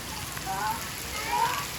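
A continuous wash of heavy rain patters on surfaces in a village, fairly loud and even, with a faint voice briefly showing through.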